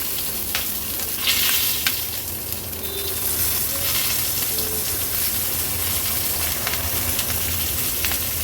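Stuffed capsicum (bell pepper) sizzles and fries in a pan, a steady close crackling hiss with brief stirring scrapes throughout and no talking.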